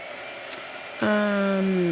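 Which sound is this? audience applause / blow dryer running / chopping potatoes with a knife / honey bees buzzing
blow dryer running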